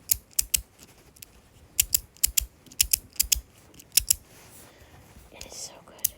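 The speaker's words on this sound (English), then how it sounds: "So I have a few magnetic sliders, but this one is definitely my favorite." A magnetic slider fidget toy snaps shut again and again in sharp, close clicks that come in irregular pairs and bursts, then trail off into quieter handling.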